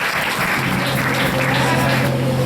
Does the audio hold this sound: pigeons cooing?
no